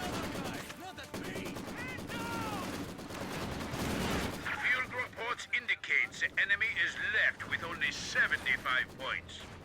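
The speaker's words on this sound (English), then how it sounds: "Three-star Maxim now firing away at these troops here." A Maxim machine gun firing in a wartime strategy video game: a rumbling, busy opening gives way to repeated sharp, rapid bursts of gunfire in the second half, fairly loud against the background.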